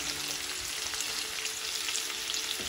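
Onions and green chillies frying in hot oil with mustard and cumin seeds for a prawn curry, a steady close sizzle with faint crackles and no voices.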